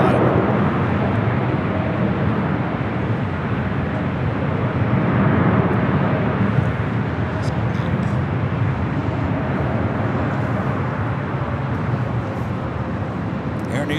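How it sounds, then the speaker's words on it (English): An Air New Zealand Boeing 777-300ER arriving from Auckland touches down on runway 25 Left at LAX, heard as a steady, broad jet roar at a distance from start to finish. "New Zealand, the 777-300ER coming from Auckland, just touching down there on the south side, 25 at the left."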